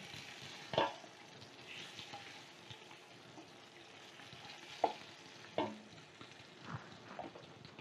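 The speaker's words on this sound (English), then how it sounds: "So we go ahead and put those into the beef fat. Trying to get it a little stir." Collard greens fry in beef fat with a faint, steady sizzle, broken by a few sharp scrapes and clacks from stirring, with no talk.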